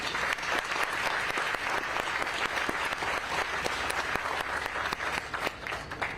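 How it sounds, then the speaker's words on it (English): Sustained applause from an audience at a cancer center update event, dense even clapping lasting several seconds without talk. "let us give them a round of applause"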